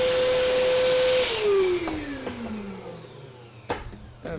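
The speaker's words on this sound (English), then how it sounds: "Got a vacuum up underneath here." Vacuum cleaner sucking up craft-foam debris at a fly-tying bench: a loud, close, high-pitched motor whine that winds down as it is switched off, followed by a few light knocks.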